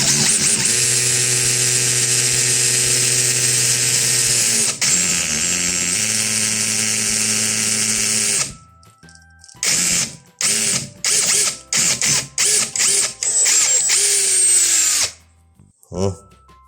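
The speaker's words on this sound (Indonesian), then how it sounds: "Tinggal kita lakukan pengeboran." Impact drill boring a hole into a wall for a TV bracket with a dust catcher attached: a loud, steady high-pitched whine for about eight seconds, then a series of short bursts and stops.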